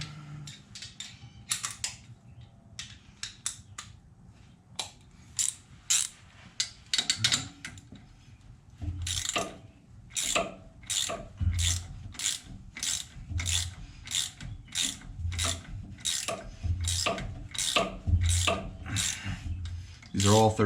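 Ratchet with an extension clicking steadily while pulling a stud on a 2016 Ram 2500 Power Wagon axle, rapid bursts of sharp close pawl clicks repeating in quick strokes, with occasional metal handling between.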